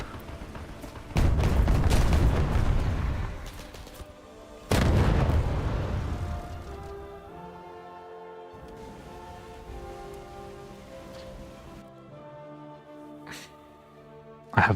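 Bombs bursting in a naval battle video game, two heavy booming blasts with rumbling decay, followed by quieter in-game engine and ambient tones.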